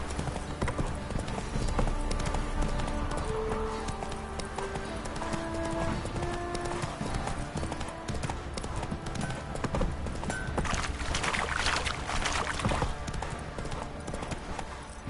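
Roach the horse trotting in The Witcher 3, steady rhythmic clip-clop of hooves close by over a continuous outdoor ambience with game music faintly underneath.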